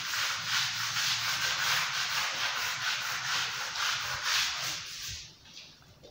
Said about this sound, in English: So now let me rub out the top part so that you see this clearly.